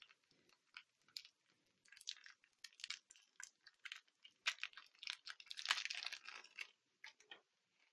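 A bubble-wrap packet holding headphones from China is opened and handled, giving irregular close crinkles, rustles and crackles that cluster into a denser burst midway before easing off, with no talk.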